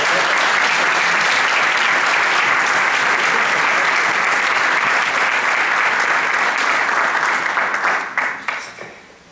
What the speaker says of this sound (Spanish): un aplauso obviamente